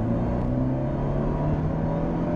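An automatic Abarth 124 pulls hard at full throttle from second gear, its engine droning loud and steady from inside the cabin with a constant low growl throughout.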